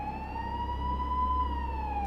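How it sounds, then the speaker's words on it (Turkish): A police siren from the Minecraft game wails steadily and alone for about two seconds, its pitch swelling and falling slightly at moderate loudness. "Polis siren sesi geliyor."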